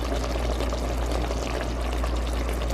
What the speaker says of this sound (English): I think I'll add a bit more water because I don't want mine this damn thick